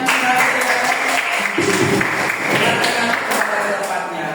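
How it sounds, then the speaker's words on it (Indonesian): Applause from a class or group after a student presentation, a continuous wash of clapping at moderate loudness lasting a few seconds, with some voices mixed underneath. "kita kasih tepuk tangan"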